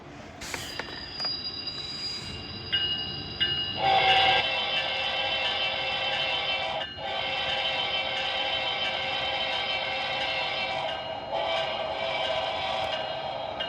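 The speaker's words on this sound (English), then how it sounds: "Turn the locomotive on that's out here." Model train locomotive running on a small track laid out in an apartment, a continuous bright metallic squealing and whirring with rail clatter that rises and holds steady after a few seconds, close and fairly loud.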